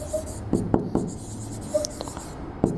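Marker or chalk strokes on a board while writing a short statement: a handful of quiet, separate scratchy taps and swipes, close by, with no talking.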